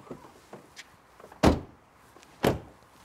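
A Volkswagen Up! GTI's doors swing shut with two solid, close thunks about a second apart, preceded by faint latch clicks and handling noises.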